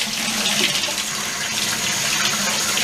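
Running tap water pours steadily over a cosplay wig being rinsed, a constant close splashing rush with no talk.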